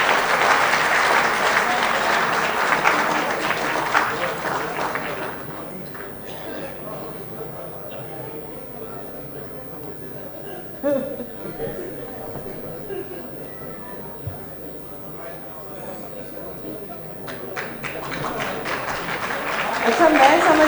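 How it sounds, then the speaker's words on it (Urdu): An audience applauds at the opening ceremony of a mother languages and literature festival in Pakistan, loud dense clapping at the start, easing into scattered claps and voices, then swelling again near the end. "تالیاں تو ہو جائیں گی۔"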